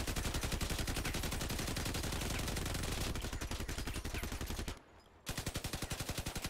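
Rapid-fire machine guns blaze in the vehicle combat game Crossout, a dense, loud stream of rapid shots running nearly the whole clip with a brief gap near the end before firing resumes.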